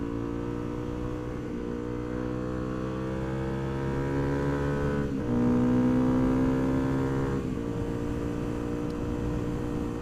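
A Honda CRF250L motorcycle cruising along a country road gives a steady, close engine drone with layered harmonics, rising slightly in pitch midway as the rider accelerates, with wind noise and no talk.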